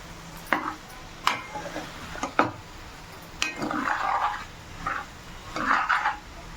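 Okra (bhindi) fry being stirred in a pan with onions, a spoon scraping and clinking against the metal in scattered bursts, with soft rustling of the vegetables between strokes.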